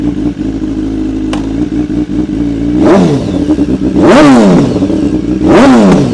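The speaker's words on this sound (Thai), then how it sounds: "เราไปฟังเสียงเครื่องยนต์และท่อไอเสียกันก่อนดีกว่า" A superbike's engine and exhaust idle with a deep steady burble, then rev sharply three times in rising and falling sweeps, loud and close with no talking.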